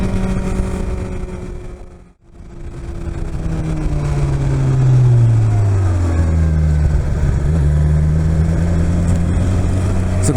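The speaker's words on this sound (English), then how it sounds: "And now full throttle." A BMW S 1000 XR motorcycle at full throttle revs up hard after a brief dip, its engine note climbing and then holding a loud, strained roar close to the rider, with no talk.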